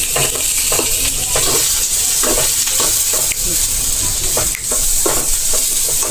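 Onions stirred and frying in a pan for paneer masala, a loud steady sizzle close up with repeated scraping strokes of the spoon every half second or so, no talking.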